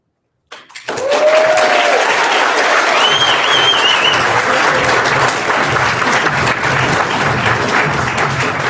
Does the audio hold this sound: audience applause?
yes